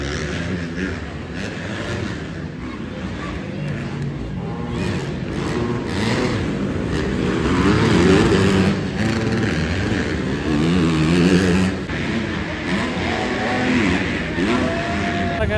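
Race cars at an ISRL supercross dirt race in Pune, engines revving and roaring in a steady loud wash of motor noise heard from the crowd, with some swells as vehicles pass.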